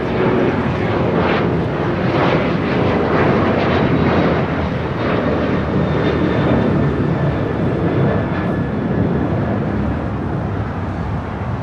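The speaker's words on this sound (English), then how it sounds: "Next takeoff is Alaska Airlines Flight 1352 heading to San Jose, Costa Rica" Alaska Airlines Boeing 737-800 jet taking off at LAX, a loud sustained roar of engines filling the whole stretch with steady broadband rumble and no speech.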